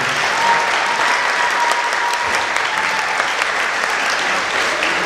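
Sustained, dense applause from a concert audience at an honor band performance, steady and loud throughout with no pauses and no talking over it.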